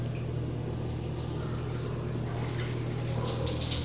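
Water runs strongly from a tap in a new apartment bathroom, a steady close rushing hiss with a low constant hum beneath, unbroken throughout.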